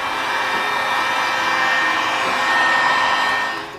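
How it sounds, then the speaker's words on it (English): A heat gun blows hot air over a custom cold air intake for a Mazda Miata, a steady, loud, close-up whooshing roar that holds for about four seconds before easing slightly at the end. "Now I'm just going to hit it with the heat gun real quick."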